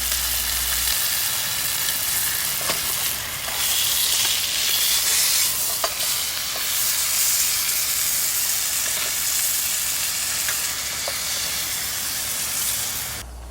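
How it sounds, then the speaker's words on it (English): Steak finishing in a skillet after coming off a cooling charcoal grill at a campsite, giving a loud, continuous close-up sizzle with a hissing, spattering crackle throughout and no talking. "I went ahead and finished my steak off in the pan"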